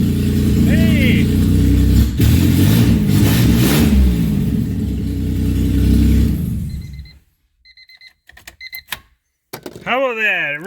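A Honda EJ Civic with a swapped J-series V6 runs very loud with no finished exhaust, a heavy rumbling idle and revs for several seconds before cutting off, followed by scattered beeps and a voice.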